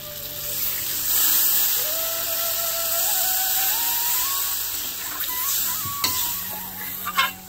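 Water goes into a pan of frying spiced cauliflower for a rohu fish curry, setting off a loud hissing sizzle that slowly settles, with a rising tone as it fills and a few clanks of a utensil near the end.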